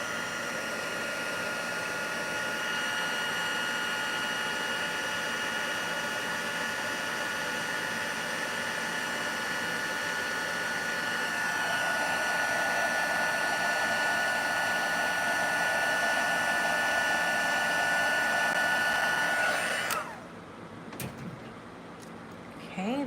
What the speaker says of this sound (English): Grab the heat tool.